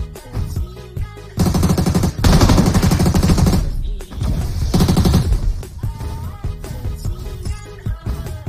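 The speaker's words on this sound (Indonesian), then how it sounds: "Ada tembak-tembakan guys" Bursts of automatic gunfire in PUBG, loud rapid rattling volleys with brief gaps between them, then scattered single shots and lighter fire trailing off.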